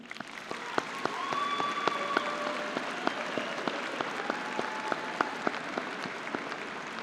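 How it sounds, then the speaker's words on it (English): A graduation commencement audience at a high school ceremony applauds steadily, a broad wash of many hands clapping at a moderate distance, with a few whoops and scattered voices rising over it. "So class of 2017, can we all give a round of applause?"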